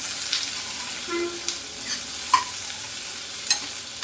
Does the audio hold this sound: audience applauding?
no